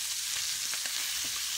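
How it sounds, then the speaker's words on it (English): Steak frying in a pan on a home stove, with a loud, continuous bright sizzle and a few faint bumps and stirs close by. "I am making steak."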